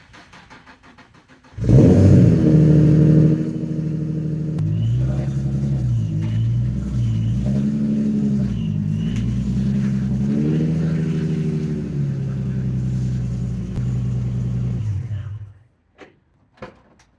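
A drift-damaged Nissan 350Z engine starts with a loud burst and then runs steadily, its pitch shifting as the car moves, before cutting off near the end.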